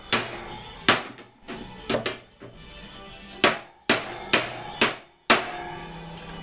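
Sharp metallic hammer blows strike a dolly while shaping the wheel arch edge on a Triumph Herald Vitesse repair, roughly ten ringing hits in uneven clusters with quiet gaps between them, close and loud.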